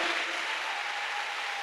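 Church congregation clapping their hands in sustained, even applause, a dense wash of claps filling the room without a break.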